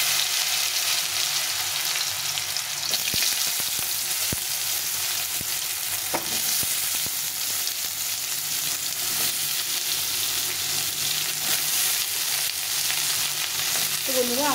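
Raw green banana pieces frying in hot oil with tempering spices, a steady loud sizzle throughout with occasional stirring clinks, close up and with no talking.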